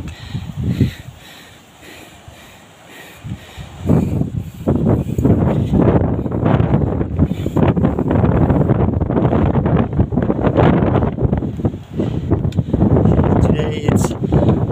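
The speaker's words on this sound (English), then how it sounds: "It's stormy, raining, windy." Heavy wind buffets the microphone in loud, rumbling gusts during a rainstorm at Padar, Komodo National Park, with a speaking voice partly buried under the roar.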